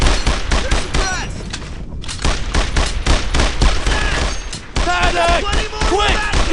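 Bursts of rapid gunfire in the Brothers in Arms: Earned in Blood WWII shooter, loud and sustained with sharp repeated cracks across the clip, brief lull near two seconds, with shouted voices and combat chatter mixed in.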